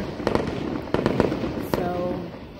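Fourth of July fireworks crackle and pop in loud irregular bursts close by, with a few sharper bangs and a steady background rumble of the crowd.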